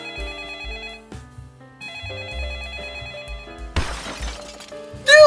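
A phone rings with a bright electronic ringtone melody that repeats in short phrases, then a crash and shattering noise follows near the end.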